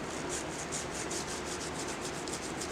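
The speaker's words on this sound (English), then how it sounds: "what I'm doing now is going back in and scrubbing off any slip that's on the high points of the plate" Steady, close scrubbing and rubbing of slip off the raised surfaces of a Mishima-decorated pottery plate, with quick back-and-forth strokes in a continuous rasp and no talk.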